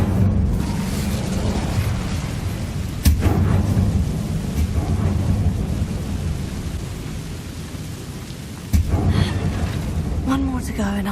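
An Incendio fire spell is cast in Hogwarts Legacy, a sustained roaring, rumbling burst of flame with a loud swell near the start and another near the end, heavy and continuous over game ambience.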